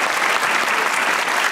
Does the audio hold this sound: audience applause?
yes